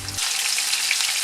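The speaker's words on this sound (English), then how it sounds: "Let's brown the meat a little portion at a time." Beef pieces sizzling loudly in a crowded frying pan or wok, browned a small portion at a time for a beef stew with creamy mushroom gravy; a steady, close crackling hiss that holds unbroken throughout.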